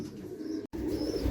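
A pigeon in a racing-bird loft in Madrid gives a low, soft, close coo, steady apart from a split-second break, with no talking.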